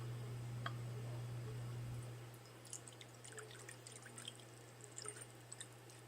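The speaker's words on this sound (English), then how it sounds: "And I'll pour out my offering." Black coffee pours from a small one-cup French press, a soft trickle and faint drips over a low steady hum, quiet and close.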